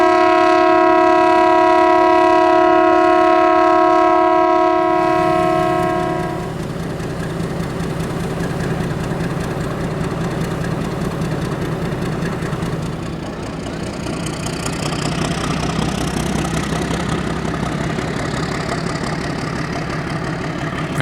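The Shekhawati Express, train 02094 on metre-gauge track, leaves the station for Jaipur: a long, loud, multi-tone horn blast opens, then a deep engine rumble with rolling wagon noise builds and carries on.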